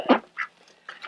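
A duck on a homestead gives three short quacks, one loud close call followed by two softer ones, spaced irregularly over about a second, with no talking.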